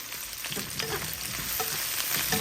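Onions and green chilies fry in hot oil, a dense, loud, continuous sizzle with faint stirring clicks, close and alone without any talking.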